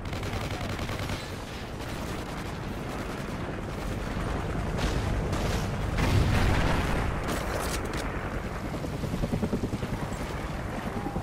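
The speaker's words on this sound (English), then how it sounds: "Friendly chopper inbound." A friendly helicopter in Call of Duty: Ghosts Team Deathmatch rumbles beneath dense, continuous gunfire and booms, a loud, busy battle mix with no clear break.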